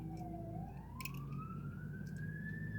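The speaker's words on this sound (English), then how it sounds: "sirens going down the road." An emergency vehicle siren passes along a road outside, its wailing tone rising steadily and sustained over a constant low background hum, moderately distant and with no talking.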